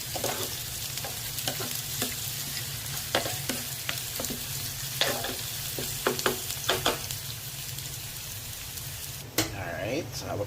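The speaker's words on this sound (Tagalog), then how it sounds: "sinusutay naman natin ang bawang at onion" Garlic and onion sautéing in a pan, a steady sizzle and frying hiss with scattered stirring clatters and scrapes, close and continuous throughout.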